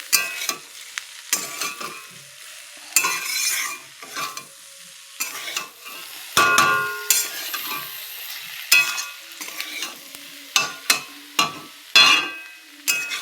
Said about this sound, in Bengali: এখন মশলাটা মিশিয়ে নিই, তারপরে মশলাটা ভালো করে কষাবো।